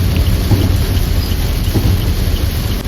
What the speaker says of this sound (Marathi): आपण चिपळूणच्या पुढे बघा पाऊस बघा तुम्ही